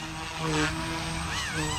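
A Blade 150 S RC helicopter, a small intermediate model, flies hard overhead with a close, buzzing rotor whine that rises and dips in pitch.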